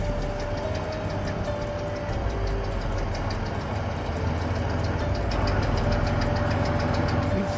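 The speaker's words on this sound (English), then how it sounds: "The K700 literally snapped in half and kept chugging along." A Soviet K700 tractor engine chugs along in a steady, continuous drone, with a rapid rhythmic knocking running through it from start to finish.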